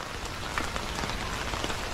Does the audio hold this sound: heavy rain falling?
yes